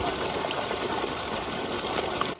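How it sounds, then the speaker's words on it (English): Water pours and flows steadily through natural hot spring pools on Sao Miguel in the Azores, a continuous broadband rushing wash with no voices. "The constant flow of the water cleans the pools naturally"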